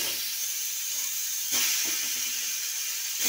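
Boiled, peeled hog plums hit hot spiced oil while making a Bengali amra chutney, giving a steady close hiss and sizzle with a louder burst midway and again at the end.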